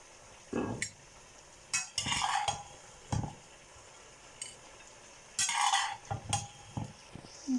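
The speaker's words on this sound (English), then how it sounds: "Going to dish out our rice." Rice is dished out with a metal utensil, scattered scrapes and clinks against a pot in several short bursts with quiet pauses between, close and unaccompanied by speech.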